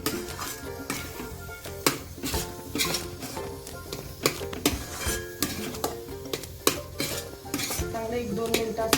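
A spoon stirs a paneer modak mixture in a metal pan on the stove, giving repeated scraping clinks and knocks in an uneven rhythm over a soft sizzle, close and clear with no voices.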